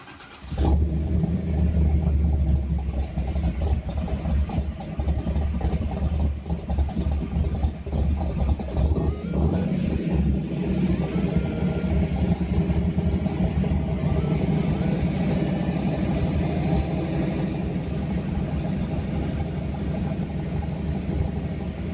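A nearby car engine runs steadily at a loud idle for about twenty seconds, with a brief rev or start-up surge near the beginning and a rough rumble throughout, no voices over it.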